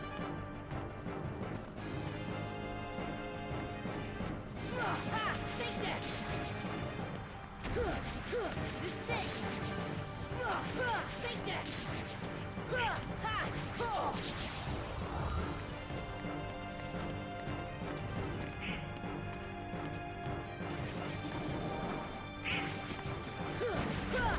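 Dense, continuous game audio from Kingdom Hearts with repeated bright crashing, shattering light effects and whooshes layered over a loud music bed, no pause throughout.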